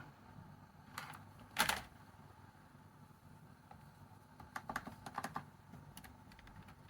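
Typing on a USB keyboard plugged into a Sony Vaio VGN-BX393 laptop: faint, sparse key clicks, with a sharper cluster early and a quick run of taps later, in a quiet room.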